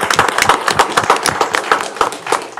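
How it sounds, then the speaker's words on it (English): A round of applause at a Harlingen city commission meeting after staff are introduced: scattered hand claps from a modest group, fairly close and steady, with sharp individual claps standing out. "If we could have a round of applause."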